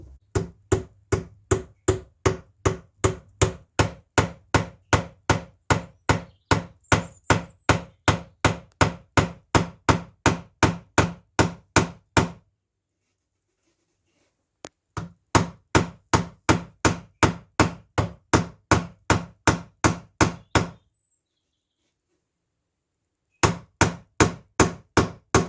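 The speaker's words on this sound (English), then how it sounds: "So I'm just going to nail this frame together" A hammer drives nails into a wooden beehive frame in steady, rapid strikes, three runs of sharp regular blows separated by short silent pauses, loud and close with no talking.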